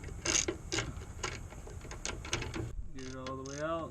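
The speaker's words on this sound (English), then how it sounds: "Bolt's coming out pretty easy." Ratchet wrench backing out a starter motor bolt on a 2003 Ford F150, a run of quick rhythmic clicks over about two and a half seconds, close and moderately loud, followed by a brief tonal whine.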